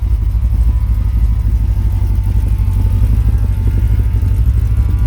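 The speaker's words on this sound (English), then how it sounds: "You hear that pump running." Pump running on a 1985 Dodge D150 pickup just after first startup, a loud, close, steady low rumbling drone with a rapid pulsing beat and no voices over it.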